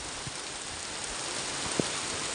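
Heavy monsoon rain over Bengaluru falls as a dense, constant hiss with a few faint, closer drip taps scattered through it.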